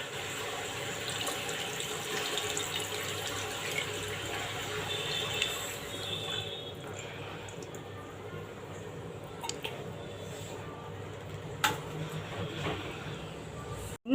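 Tamarind water poured into a pressure cooker over fish for a Kerala-style mathi dish, a continuous soft splashing pour that thins out midway, followed by a few light clinks and drips.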